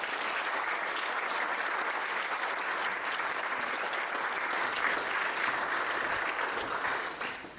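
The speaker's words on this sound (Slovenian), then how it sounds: "Dajmo še en aplavz, prosim, lepo za našega Kristjana." Dense, sustained audience applause at a gala event fills the space, a steady wash of many hands clapping that holds evenly throughout before tapering slightly at the end.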